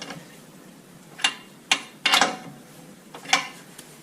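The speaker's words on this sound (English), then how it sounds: "Now, if you don't have a breaker bar, a torque wrench will work pretty well on this as well." Breaker bar or torque wrench working a bolt during a coilover suspension install on a 5th-gen Chevrolet Camaro, a few sharp metallic clicks and clanks spaced irregularly over a steady low background.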